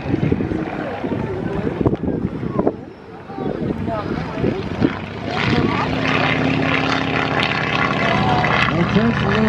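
A propeller airplane drones overhead at the Flying Circus Airshow, a loud, sustained engine rumble with wind buffeting, while a voice talks over it throughout.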